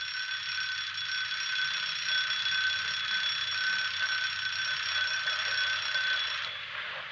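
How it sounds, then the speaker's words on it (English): An old mechanical alarm clock rings nonstop, a loud, even metallic bell clatter lasting about six seconds before it cuts off, with no talk over it. "That's my little old alarm clock."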